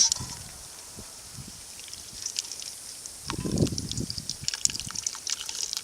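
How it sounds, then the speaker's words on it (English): Cooked poke salet greens pour into a colander to strain, giving a soft, brief wet splashing and trickling burst in the middle, faint and close, with light kitchen clatter around it and no talking. "I'm going to put it in my colander."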